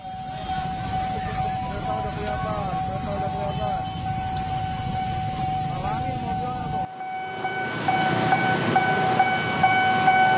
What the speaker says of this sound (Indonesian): Ini kereta-kereta yang dari dan juga akan menuju ke stasiun Pondok Jati